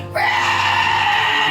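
A person imitates a piercing goblin shriek, one loud, sustained, strained scream lasting just over a second.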